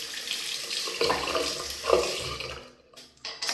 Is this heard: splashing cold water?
yes